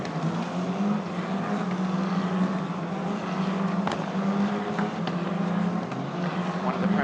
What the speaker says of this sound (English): About to set off on the formation lap here at Paul Ricard.